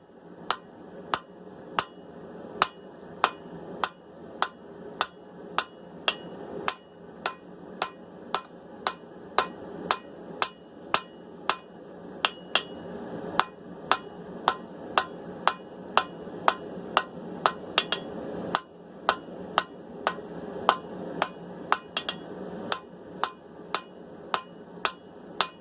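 Steady, evenly spaced hammer blows ringing on hot steel while an axe drift is forged into a teardrop shape, a long run of sharp metallic strikes with occasional brief pauses, close and clear.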